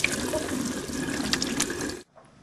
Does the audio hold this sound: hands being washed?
yes